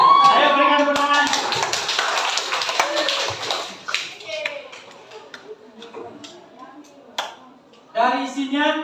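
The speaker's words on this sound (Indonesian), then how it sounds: "Ayo berikan tepuk tangan." A classroom bursts into brief applause, a burst of crisp handclaps over the first few seconds mixed with children's voices and chatter, then scattered claps and talk as the clapping dies down.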